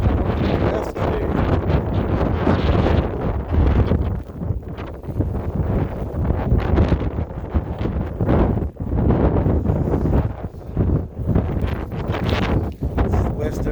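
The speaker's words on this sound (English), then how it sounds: "I'd say the wind's blowing the west today." Strong blizzard wind roars steadily against the outside of a house, gusting and buffeting the microphone throughout with a loud, unbroken rush.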